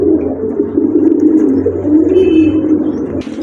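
A pair of pigeons with identical markings, a male and a female, coo softly in a low, throaty, repeating murmur close by, continuous for a few seconds with no talking.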